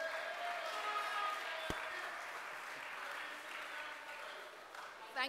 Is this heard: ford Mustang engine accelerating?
no